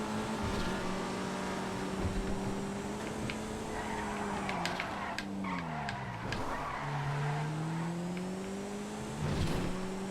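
A Futo Rally car engine in GTA FiveM revs and shifts through changing pitch while its tires skid and squeal, sounding loud and steady throughout.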